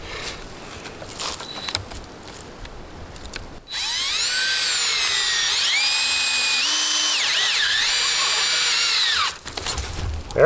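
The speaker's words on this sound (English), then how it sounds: "It was easier for me to drill this in with my drill" A power drill whines loudly and steadily for about six seconds, its pitch dipping and rising under load, as it drives a metal ground anchor into the soil beside a wooden swing set, with quieter outdoor noise before and after.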